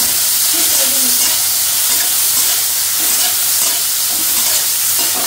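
Prawns sizzle loudly in a pan with spices, a dense, steady frying hiss close up that stays constant throughout, with faint stirring scrapes underneath.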